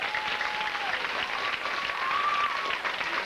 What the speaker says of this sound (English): You can give him a round of applause for that too.